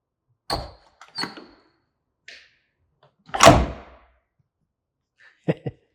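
Vehicle door fitted with new Trique latches being shut and latched, several separate sharp clicks and thunks, then one louder solid slam and a final pair of quick latch clicks, all close by in otherwise quiet surroundings.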